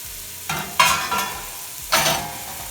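Chopped carrots and celery sweating in oil in a soup pot, a few short bursts of sizzle and scraping as the vegetables are stirred, loud and close, with quiet gaps between strokes.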